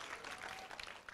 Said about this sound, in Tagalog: Come on, sige, yung palakpak mo.